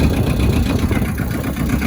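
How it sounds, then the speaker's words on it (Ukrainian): A Suzue M1503 tractor's two-cylinder engine runs close and loud, a throbbing, uneven low chug at steady speed with no voices. "чути, що це саме двоциліндровий двигун"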